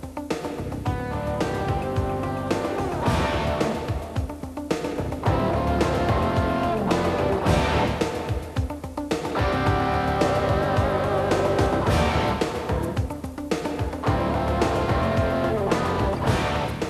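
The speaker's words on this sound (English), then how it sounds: "So let's try the car out on the road." A 1992 Nissan 100NX T-Bar drives on the road with a continuous loud engine drone and road noise that rises and dips slightly throughout, and no talking.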